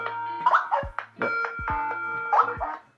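Chime ringtone (ring 2) of an Ezviz CP4 smart video doorbell, a melodic electronic tune with repeated tonal notes and a short rising figure twice, clear and close with no talk.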